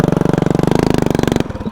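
A vertical-shaft engine mounted horizontally and driven through a CVT transaxle in third gear revs hard and close, a fast, evenly pulsing mid-pitched drone that cuts off abruptly near the end.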